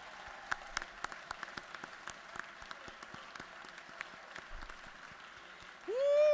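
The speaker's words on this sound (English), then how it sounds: "Stand to your feet and clap your hands." An audience in the Georgia House of Representatives chamber claps steadily with scattered sharp individual claps, moderately distant, ending with a rising whoop or cheer right at the end.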